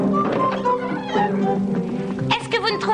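A cat meows amid a lively French cartoon soundtrack, with voices and other sounds mixed in around the calls.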